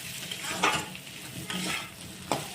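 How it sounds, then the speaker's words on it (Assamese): Potato pieces sizzle in oil in a pan for a chicken curry, with a steady frying hiss and a few sharp scrapes of stirring at intervals. "এতিয়া আলু ফ্ৰাই কৰি আছোঁ"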